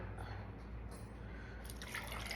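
Cold brew coffee poured into a glass over a little ice, a short close dripping, trickling pour with a brighter splash near the end, over a soft background.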